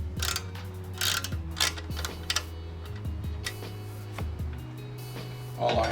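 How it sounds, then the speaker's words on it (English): A ratchet wrench snugs the exhaust clamps of an SC Project exhaust on a Streetfighter V4 S, a few short bursts of clicking close by amid shop noise and low humming. "I'm just pre-tightening it, just so I could place it in the proper area"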